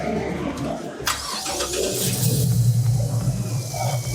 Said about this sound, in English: Fire it up, let me, I'll take a look, fire it up and I'll check it out from underneath.